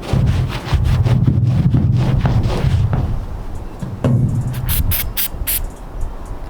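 Tar and sap remover sprayed onto car paint on a Honda Civic, heard as several loud, close bursts of aerosol spray hiss, followed by a few short, sharp sprays near the end.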